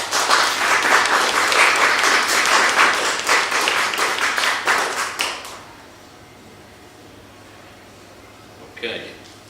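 An audience claps during a talk, a loud, dense burst of applause lasting about five seconds before fading to room quiet, with a brief sound near the end.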